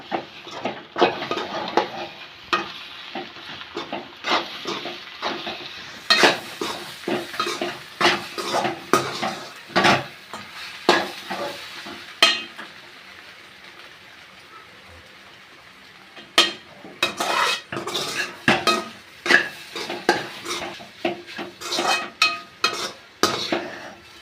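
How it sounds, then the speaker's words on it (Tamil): Egg poriyal, an egg stir-fry, being stirred in a pan: repeated scraping and clinking of a utensil against the pan in irregular bursts over a soft sizzle, with a quiet pause partway through. "கிளறினே இருக்கணும்"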